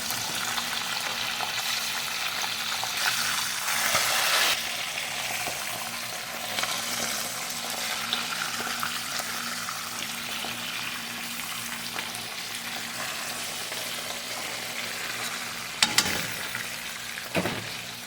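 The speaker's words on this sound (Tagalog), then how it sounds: "sa ating piniprito ang ating isdang espada na ating ilalahok sa ating munggo" Swordfish fries in a pan for a mung bean stew, giving a continuous crackling sizzle with steady spattering and a few sharp pops near the end, no voices.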